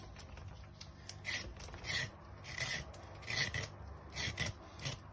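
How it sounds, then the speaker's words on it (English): A hand scraper peels carrots and potatoes, a series of close, faint rasping strokes repeating at an uneven rhythm over a low background hum. "So I'm going to peel the carrots and the potatoes"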